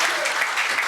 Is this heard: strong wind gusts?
no